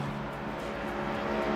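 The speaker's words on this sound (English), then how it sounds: "I have to say the car sounds have been absolutely amazing though." Race car engines in the Le Mans Ultimate racing game, GT3s and hypercars, drone steadily and loudly through a short stretch, a continuous engine roar without talk.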